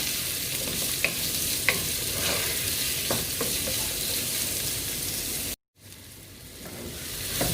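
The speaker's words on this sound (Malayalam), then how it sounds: "അരിഞ്ഞ് വെച്ചിരിക്കുന്ന സവോള ഇടാം. നന്നായിട്ട് വഴറ്റി കൊടുക്കുക." Sliced onions sauteing in a pan for a sausage masala, a steady close sizzle with a few sharp stirring clicks and a brief dropout partway through, no talking.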